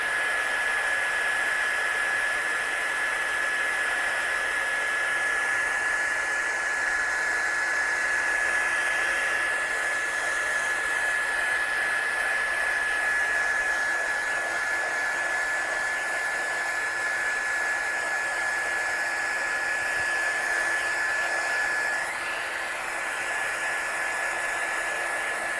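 A hair dryer blows on wet ink on a craft stencil, a loud, steady whooshing roar with a thin whine running through it that holds unbroken for the whole stretch, with no one talking.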